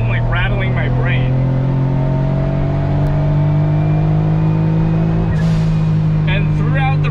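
Autozam AZ-1 with an ORIGINALITY catalyst downpipe exhaust, decelerating from about 4,000 RPM: a loud, steady, droning engine and exhaust rumble that holds throughout with a slight pitch shift near the end.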